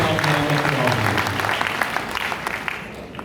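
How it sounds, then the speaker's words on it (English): Audience applause for two honoured doctors at a patients' tribute event, a dense burst of clapping filling the room that slowly thins toward the end, with a voice speaking over the start. "Ladies and gentlemen, the magic applause, yes,"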